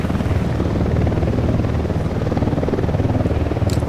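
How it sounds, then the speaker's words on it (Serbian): In Ghost Recon Wildlands, a patrol helicopter passes overhead, its loud, steady rotor chop filling the whole stretch with no other sounds. "pazi, helikopter nas nadleće vojnik"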